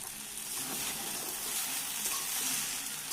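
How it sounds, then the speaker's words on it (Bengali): Chicken chow mein with added spice sizzles in a frying pan while being tossed, a brief, quiet, even hiss with faint stirring movement. "এই যে আরেকটা মশলা দিয়ে দিলাম, দিয়ে আরেকটু নাড়াচাড়া দেবো।"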